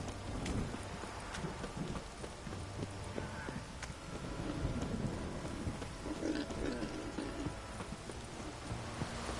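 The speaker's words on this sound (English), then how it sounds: "Don't stop raining, my arse will rot off." Steady rain pours in The Witcher 3 video game, with low rumbling thunder and scattered crackling hits beneath a continuous hiss, heard at a fairly faint level throughout.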